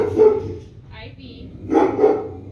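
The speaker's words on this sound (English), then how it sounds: "We're gonna let Ivy bark." A dog barks in a few loud, close bursts with a pause between them, while someone talks nearby.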